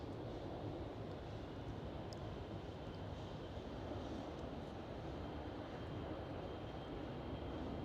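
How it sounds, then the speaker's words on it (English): An Air China Boeing 747 departing Schiphol Amsterdam, its engines a broad, steady jet rumble heard from a distance, holding constant without voices throughout. "And where is the Air China 747 departure?"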